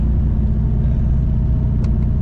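A Buick Regal street car on slick tires drives along, its engine a steady, loud low-frequency drone with constant road rumble and no break in the noise.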